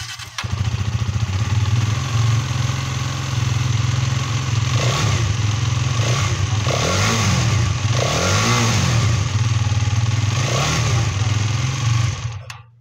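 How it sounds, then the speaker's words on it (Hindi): A new Hero Karizma XMR 210cc single-cylinder motorcycle engine runs close up, a steady idle broken by several short throttle blips that rise and fall in pitch before it shuts off. "बाकी इसके इंजन की आवाज़ भी सुना देते हैं, ये न्यू वाला इंजन है,"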